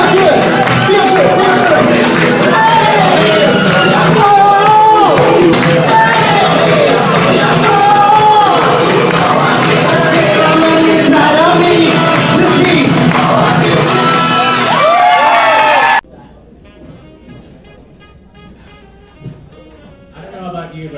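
A pageant audience at the Miss Art Deco Pageant 2018 screams and cheers loudly over booming music for about fifteen seconds, then the noise drops abruptly to quiet, scattered murmur and a few claps.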